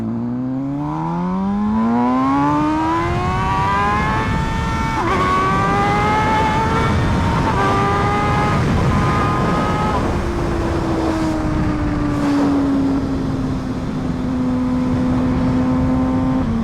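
An MV Brutale 1000RR motorcycle accelerates hard, its engine note climbing loudly and steadily, then dropping at each gear shift before rising again, heard close from the rider's position throughout.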